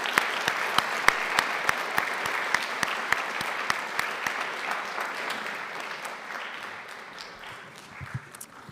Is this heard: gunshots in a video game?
no